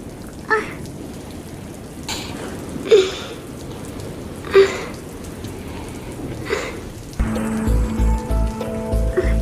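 Rain patters steadily with a few louder drips and splashes standing out, then a heavier wash of noise with a low rumble joins near the end.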